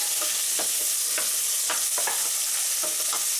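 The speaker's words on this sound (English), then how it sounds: "let it fry" Chopped steak fries in a pan with a steady, bright sizzle throughout, broken by a few soft stirring scrapes and spatters.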